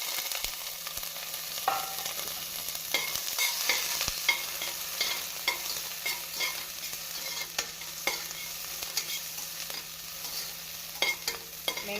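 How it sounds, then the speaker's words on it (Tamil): Chopped onions fry in ghee for ghee rice, a steady soft sizzle with occasional stirring scrapes and clicks of a spoon in the pan, fairly quiet and without talk. "பின்பு நாம் நறுக்கிய வெங்காயத்தை போட வேண்டும்."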